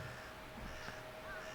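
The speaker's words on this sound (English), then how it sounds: "I could hear the sound of birds chirping on the power lines" Birds on power lines in the Chaos;Head Noah visual novel give a single faint crow-like caw over a quiet morning ambience.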